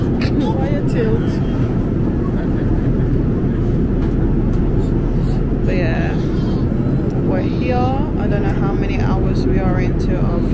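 Steady, loud cabin roar fills an airplane on a 12-hour flight, with dense low rumble throughout and faint voices and small sounds over it.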